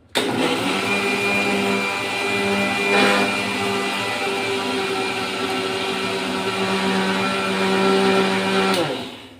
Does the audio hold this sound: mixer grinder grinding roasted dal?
yes